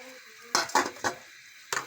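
A spoon clinks and scrapes against a metal pot in four short bursts, close and clear, with quiet pauses between.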